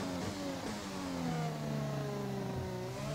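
A Honda Formula 1 car engine in the F1 2020 racing game revs steadily and loudly, its pitch sweeping up and down through gear changes, with no talk over it.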